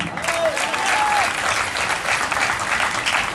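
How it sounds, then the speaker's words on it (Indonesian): Applause from a revival crowd at a church crusade service in Nias, dense and steady clapping filling the space for a few seconds, with a voice faintly audible over it. "Mana tepuk tangan?"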